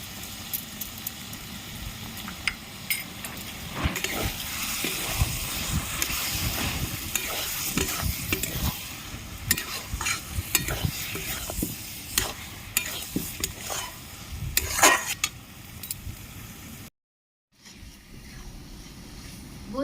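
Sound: taro leaves and prawns being stir-fried in a pan

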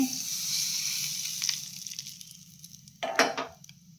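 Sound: oil sizzling as ingredients are added to hot pan

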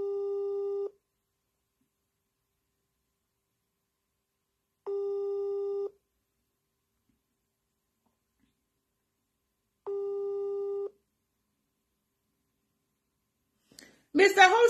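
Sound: phone call ringing out unanswered

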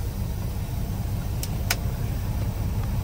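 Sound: truck engine running as the driver sets off

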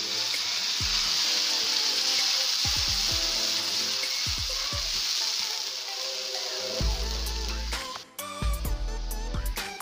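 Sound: tomato and green chili puree sizzling in a hot pan

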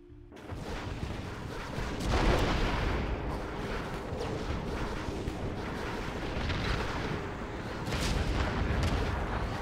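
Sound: explosions and artillery fire in video game

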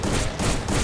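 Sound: gunfire in a video game

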